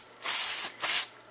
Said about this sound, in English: I'll try spraying that on the shaft